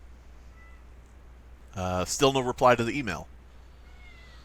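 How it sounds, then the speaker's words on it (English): A pet cat meows a few times in quick succession, the calls close and fairly loud, with someone speaking at the same time. "if you hear my cat in the background"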